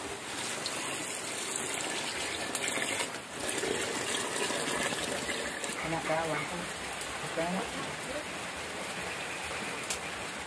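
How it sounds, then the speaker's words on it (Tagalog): Steady rain falls outdoors as a continuous hiss beneath a cooking scene of boiled beef with cabbage, with a voice talking softly over it. "Umulan dito ngayon"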